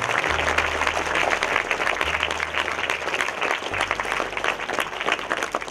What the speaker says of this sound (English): Shall we give them a big round of applause and thank and appreciate them?